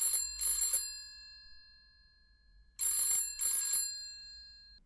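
A telephone bell rings in the house of Bert Bell, the NFL commissioner: two clear double rings, each a bright metallic trill, separated by a couple of seconds of quiet.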